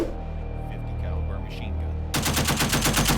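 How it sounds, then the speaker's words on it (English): M2 Browning .50 caliber heavy machine gun firing a rapid sustained burst, loud and evenly spaced shots starting abruptly partway in after a stretch of background rumble. "The M2 heavy machine gun or Browning .50 caliber machine gun is one of the Army's best weapons."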